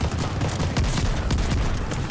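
Shotgun fire in a multiplayer shooter video game comes as a rapid string of loud, sharp blasts, several close together over about two seconds, with no talking.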